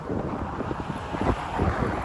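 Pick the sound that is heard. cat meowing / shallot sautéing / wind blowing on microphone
wind blowing on microphone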